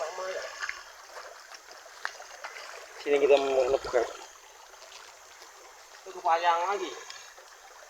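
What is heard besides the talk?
river flowing, Sungai Binjai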